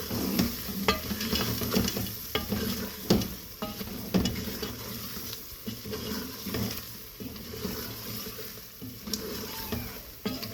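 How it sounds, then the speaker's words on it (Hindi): Spices sizzle in hot oil for beef nihari as a spoon scrapes and stirs the pan in repeated strokes, fairly quiet and close, with no voices. "अच्छे तरीके से मसालों को फ्राई करते हैं ताकि अच्छा सा कलर इसका आ जाए"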